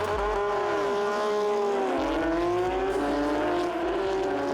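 Porsche Carrera Cup race cars roar away at a race start, several engines revving and shifting together in a loud, dense, rising howl with no talk.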